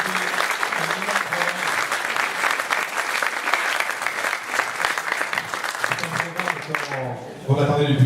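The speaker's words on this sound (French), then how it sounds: "Donc je pense qu'on peut encore applaudir toute cette équipe." Audience at a French municipal election campaign meeting for a local candidate list applauds the team, a dense sustained wash of clapping throughout, with a voice beginning to speak over it near the end.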